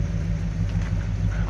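A 1965 Chevrolet Caprice with a 396 big block V8 idling, a deep, steady low rumble close by with slight rhythmic pulsing and no talk.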